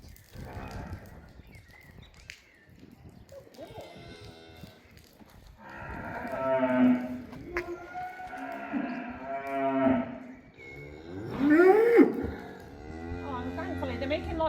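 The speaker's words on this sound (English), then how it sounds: "The bulls are really getting noisy now, watching what we're up to." Bulls in a field moo repeatedly in long, deep, drawn-out calls, some close and loud, others softer, with a person speaking at times between them.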